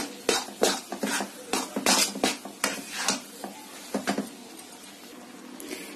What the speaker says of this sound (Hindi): तो यहाँ पर देखिए मेरा बेसन अच्छे से देखिए इस तरह भुना रहा है।